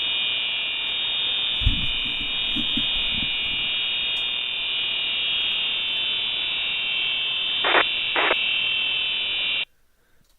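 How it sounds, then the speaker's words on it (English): A continuous shrill emergency alert buzzer tone plays loud and steady for about nine seconds, with a few brief low thumps and short bursts layered in, then cuts off suddenly into near silence. "Here's another tone here on the buzzer."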